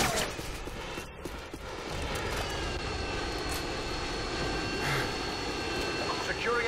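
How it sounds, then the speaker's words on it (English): A Harrier jet inbound in the video game Modern Warfare 2, a steady roaring aircraft engine drone that stays fairly consistent and moderately loud throughout, with faint battle noise mixed in and no clear talk. "Friendly Harrier's inbound."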